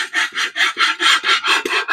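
Close, rhythmic rasping of a hand file scrubbing over Ford C4 transmission mating surfaces to clear corrosion and crud, about eight even back-and-forth strokes in two seconds with no talk.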